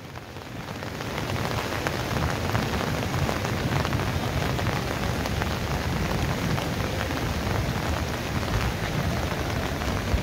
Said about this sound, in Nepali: अविरल वर्षाका कारण बागमती नदीले तपाईँले देख्न सक्नुहुन्छ निकै ठुलो रूप लिएको छ।